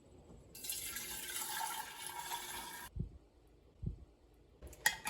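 A milk mixture for making quark, a soft German cheese, is poured back into a gallon jar, making a steady splashing pour for about two seconds, followed by a few dull knocks.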